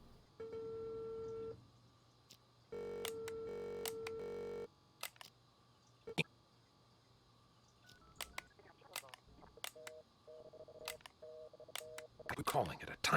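Telephone keypad tones in the Unheard video game: several short bursts of dialing beeps, separated by gaps and sharp clicks, with muffled voices and noise building toward the end.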